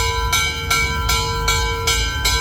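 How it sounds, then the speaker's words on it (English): Bell on a steam locomotive at a train museum fairground rings in steady, evenly spaced clangs, about six strikes with a sustained metallic ring over low rumbling background. "Because somebody rang the bell."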